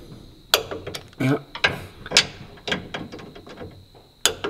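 A torque wrench tightens sway bar nuts on a Mazda MX-5 Miata with a quick run of sharp ratcheting clicks, close and uneven, coming in short bursts.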